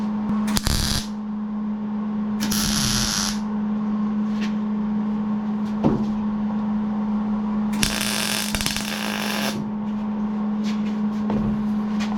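Exhaust header tubing being welded on a 1992 Chevy C1500 with an LS1 swap and long-tube headers: three loud, crackling bursts of about a second or two each stand out over a steady electrical hum, with no talking.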